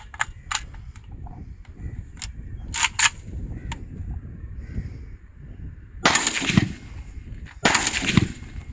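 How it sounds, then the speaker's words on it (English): A short-barrel AKM rifle fires at an outdoor range in Pakistan: a string of sharp, loud single shots early on, then two longer, heavier bursts of gunfire near the end, with no speech. "Another AKM with short barrel."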